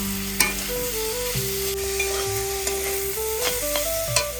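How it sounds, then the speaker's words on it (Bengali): Yardlong beans fry in a wok over a clay stove, a steady close sizzle with scraping stirs and a few sharp clinks of the utensil against the pan. "চাল কুমড়ো বানানোর পর ওই কড়াইতেই বরবটি ভাজাটা করে নিচ্ছি"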